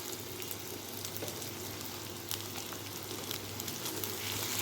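Ginger garlic paste sizzles in a pan with onions for a chicken kurma, a soft, continuous frying crackle with small pops, heard close and alone.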